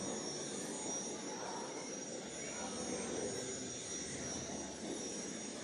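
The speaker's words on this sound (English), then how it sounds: "watch the trains going around." Model railway trains run around a club layout with a continuous rumbling clatter and faint wheel squeal, steady and moderately close, with quiet voices in the room.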